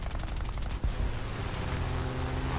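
P-63 aircraft cannons firing in War Thunder, a rapid string of loud thumping shots, a brief break, then a steadier roar of gunfire and engine noise.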